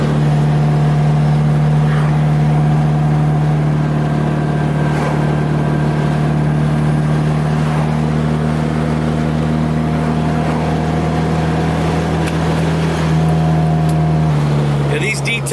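A K-series car fitted with new Hybrid Racing detent springs is driven, its engine droning loudly and steadily from inside the cabin, with a slight change in pitch near the end.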